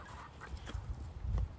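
Farm hens and other fowl loose from their run cluck and call, soft and somewhat distant, with a couple of fuller bursts toward the end over low outdoor rumble.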